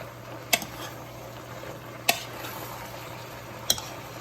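A pot of oxtail and cabbage simmers with a soft sizzle while a spoon scrapes and knocks against it three times at even intervals, close and clear, with no voices.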